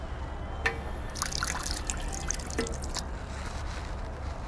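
Water running from a drinking fountain on a children's playground, a steady close trickle and splash with a few brief louder gushes, with no talk.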